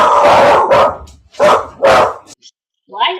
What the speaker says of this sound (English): There, we got a dog. Oops, we got two dogs.